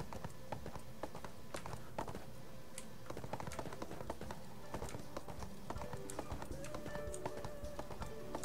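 Rapid clopping horse hooves on a hard surface in the game ArcheAge, steady and continuous, mixed with dense clicking and background game sounds.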